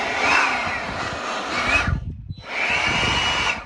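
A leaf blower used to clear out an off-road race camp in Baja roars steadily and close by, cutting off briefly in the middle before starting up again.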